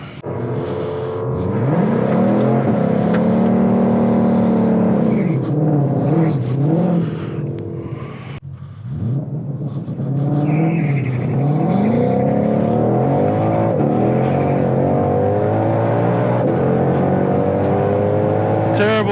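A 2021 Ford Mustang GT500 launches on a drag strip using launch control set near 2000 RPM: the engine holds a loud steady rev, then drops and roars again with a rising, accelerating tone, up close and continuous.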